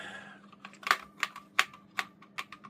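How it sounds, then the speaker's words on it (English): Keys clatter on a USB membrane keyboard built into a Fallout-themed cyberdeck, its membrane prone to sticking. The clicks are close and irregular, landing in quick clusters with short gaps and no voices. "I got the keyboard working."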